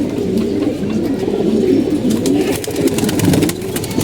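Several pigeons coo in soft, rolling, repeated calls from a nearby cage, heard up close with no talking.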